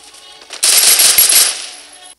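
A burst of rapid gunfire in Free Fire, loud and close, rattling for under a second before trailing off, preceded by quieter clicking sounds.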